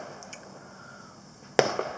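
A single sharp firework bang outdoors on bonfire night, loud and sudden with a short ringing tail and a smaller crack just after, set against quiet background hiss.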